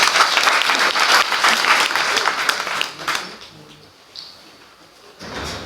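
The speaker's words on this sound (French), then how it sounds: "Il mérite d'être applaudi. Applaudissez." Audience in a university hall at a student integration day applauding loudly for about three seconds, then the clapping fades to scattered claps and murmurs before a short renewed burst at the end.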